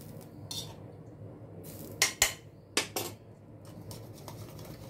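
Batter being whisked in a bowl after hot oil is poured in, a few sharp metallic clinks and scrapes of utensil against the bowl, close up, over a quiet background hiss with no talking.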